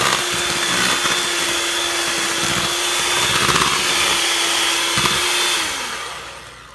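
An electric hand mixer whirs through banana bread batter with eggs and cannabutter, a steady close motor drone that holds at an even pitch for about six seconds, then winds down and fades.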